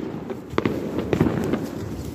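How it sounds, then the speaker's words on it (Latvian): City fireworks for New Year pop in a few distant bursts, two or three soft cracks spaced about half a second apart over a low street rumble. "Ejam ātrāk, es jau dzirdu salūtu."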